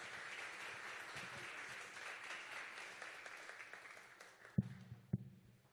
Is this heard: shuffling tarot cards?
no